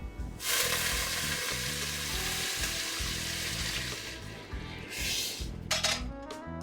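Water poured into a hot pot of sweating vegetables for a julienne soup, a loud steady sizzle and hiss with light clinks of a pan near the end.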